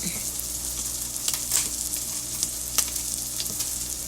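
A scrambled omelette sizzles steadily in a skillet, with a loud, constant hiss of frying and a few light scrapes and taps from stirring.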